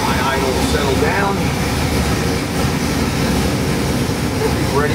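A Ford 7.3L Godzilla V8 performance engine idles steadily, a loud, continuous low rumble with a broad hiss on top and no break across the few seconds.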